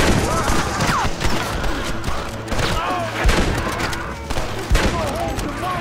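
Gunfire from the video game Red Dead Redemption during a shootout in Blackwater, with dense, overlapping shots and thuds running steadily throughout, mixed with shouted voices and background commotion.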